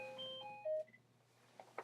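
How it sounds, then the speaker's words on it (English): A phone rings indoors with a short series of faint electronic tones, a few steady beeps lasting under a second in a quiet room. "Phone's ringing."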